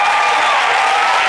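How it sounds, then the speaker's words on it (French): Studio audience of a Valentine's Day television talk show applauding a marriage proposal, steady dense clapping that stays loud and even throughout with no voices breaking through. "Applaudissements encore."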